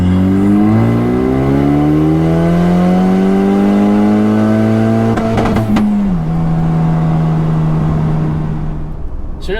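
A tuned Ford Ranger EcoBoost pickup accelerating hard, its engine note climbing steadily through the rev range, then a brief break at a gear change before it pulls on at a lower pitch, loud and continuous from inside the truck.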